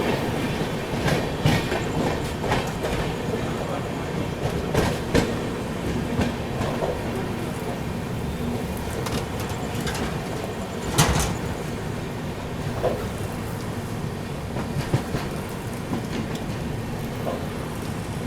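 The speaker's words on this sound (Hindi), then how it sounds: "ये एक और डिब्रूगढ़ राजधानी एक्सप्रेस के साथ क्रॉसिंग हो रही है।" A passing train thunders by as the Dibrugarh Rajdhani Express crosses, loud and continuous rumbling with clickety-clack wheel rhythms and occasional sharp clanks and squeals, heard close alongside from a moving train.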